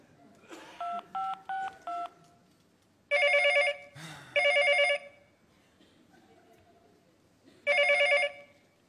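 A burst of touch-tone dialing beeps, then three loud, evenly spaced ringback tones on a phone line while calling back, clear and alone with no talking.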